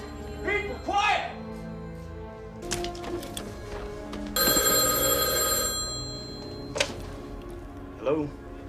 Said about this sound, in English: The phone rings.